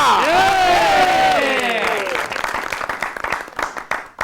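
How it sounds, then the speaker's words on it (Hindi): A studio audience on a comedy talk show bursts into applause to welcome a guest, a broad clapping crowd rising after a voice finishes speaking and continuing loudly to the end. "आपकी भरपूर तालियों में"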